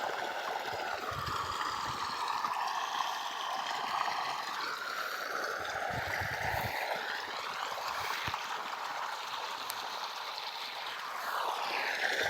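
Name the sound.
irrigation water flowing into a millet field channel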